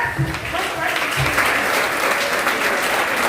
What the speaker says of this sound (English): Please continue clapping.